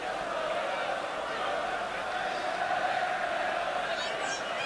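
Steady roar of a large, rain-soaked football stadium crowd of 37,143 at an Arsenal v Tottenham Division One match, a constant distant wash of murmur with a commentator speaking over it.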